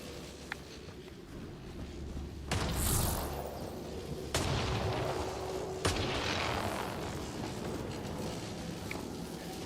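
Shotgun blasts fired in a sci-fi action video game, a few sharp booming shots spaced several seconds apart over a steady background of game ambience.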